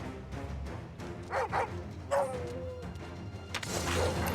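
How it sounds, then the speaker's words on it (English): A dog barks and whimpers during a battle in the video game Final Fantasy 16, with short yelps and a drawn-out whine over a steady bed of game sound and music. "Ugly ass dog."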